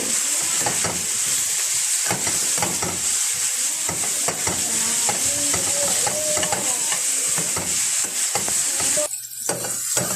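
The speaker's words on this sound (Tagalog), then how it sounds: "Halo-haluin lang natin yan hanggang mag-brown." Chicken frying in a pan and stirred until brown, a constant loud sizzle with frequent scraping utensil clicks throughout, close up.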